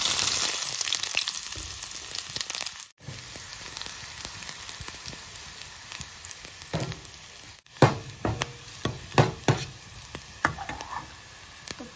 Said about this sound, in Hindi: अब हम डालेंगे इसमें प्याज।